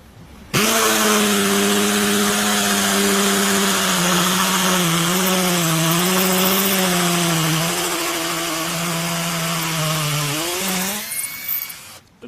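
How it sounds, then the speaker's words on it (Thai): An 84V MEKATA cordless hammer drill whines steadily for about ten seconds while boring into concrete, its pitch wavering, then cuts off. "เดี๋ยวเรามาทำการรีวิวเจาะปูนนะครับ"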